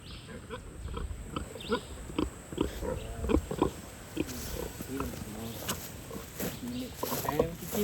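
Pigs grunt and snort repeatedly at close range while rooting up soft ground on a tropical Costa Rica farm, the rhythmic grunts overlapping with talking nearby and insect buzz.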